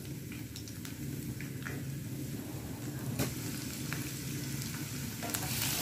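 Cumin seeds and a little garlic fry in hot oil in a pan on the gas stove, giving a steady, close, quiet sizzle with faint crackles and an occasional clink of a utensil, with no talking.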